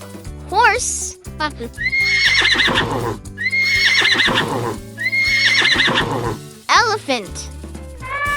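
A horse neighs in repeated loud, whinnying bursts close by, with a clip-clop of hooves, all over steady upbeat background music.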